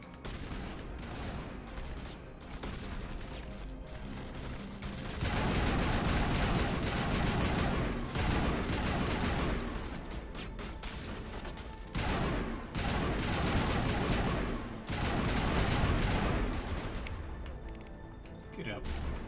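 Sustained bursts of rapid gunfire in the Mass Effect video game, loud and dense, dropping briefly between volleys, with a voice faintly present underneath.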